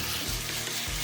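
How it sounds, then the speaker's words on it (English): Rice cakes, sliced ingredients and sauce are stir-fried in a pan, a loud, close, continuous sizzle with stirring noise throughout. "add the sliced ingredients and the rice cakes and stir fry them"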